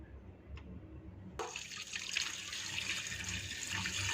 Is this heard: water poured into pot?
yes